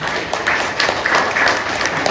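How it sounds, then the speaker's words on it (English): An audience claps for a semi-classical dancer at a kirtan gathering, dense steady applause close by for a couple of seconds. "So one round of applause for her."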